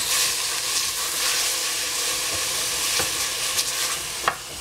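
Bean sprouts stir-frying in a pan for sweet and sour vegetables give a steady, close sizzle with constant frying hiss and light stirring scrapes, with no talk.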